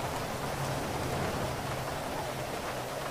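Heavy rain pours down in a video game, a dense, steady hiss that fills the whole stretch at an even, loud level, with no voices over it.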